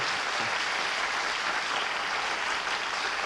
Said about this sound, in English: they're applauding so heartily